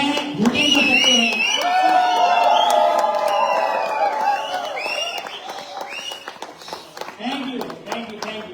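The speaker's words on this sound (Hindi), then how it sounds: "हल्ला मचा सकते हैं, सीटी बजा सकते हैं" A training-hall audience cheers and shouts with whistles over a dense crowd roar that swells loudly early on, then thins into scattered cries and voices toward the end.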